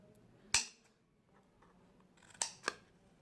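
Scissors cutting paper for a lidded gift box: three crisp, close snips, one alone and then two in quick succession, against a quiet room.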